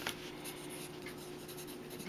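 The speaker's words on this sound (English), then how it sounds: "Draw pictures of whatever." A pen or pencil scratches quietly and continuously across paper while pictures are drawn, a faint close-up rustle with no talking.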